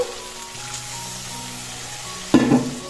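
Spiced food with turmeric, salt and a splash of water is stirred and fried in a pan: a steady close sizzle runs throughout, with a louder burst of stirring and scraping near the end. No one speaks.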